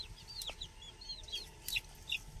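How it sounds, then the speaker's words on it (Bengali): Domestic chickens being fed at home give a scatter of short, bright clucks and chirps over a low background rumble, moderately close and uneven in rhythm. "এখন মুরগিগুলোর একটু খেতে দেব।"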